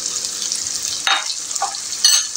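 Chopped garlic, ginger and four or five green chilies frying in a pan, with a steady close sizzle broken by two or three brief scraping stirs.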